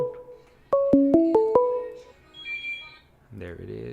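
Incoming call on a prison phone line, a short run of loud electronic tones stepping up and down in pitch, followed by a faint tone and the start of an automated voice.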